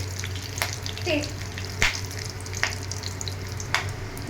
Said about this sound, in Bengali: এগুলো হালকা হাতে একটু সটে করে নিচ্ছি